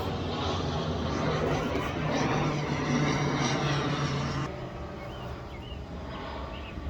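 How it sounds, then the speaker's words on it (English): A steady distant engine drone passes overhead, swelling slightly and then fading as the aircraft moves away; no one speaks. "Another airplane."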